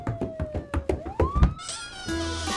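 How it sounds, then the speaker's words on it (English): Police siren in the Farming Simulator 22 farming game, a rising electronic wail sweeping upward over a few knocking thuds, then a steady multi-tone siren holding loud and close at the end. "That sounds like a police siren."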